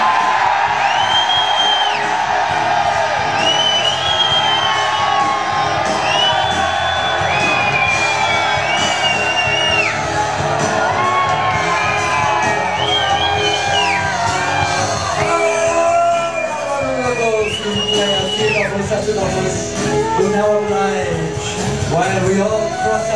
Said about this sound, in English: Get ready to let fly with the greatest loud cheer you can possibly get.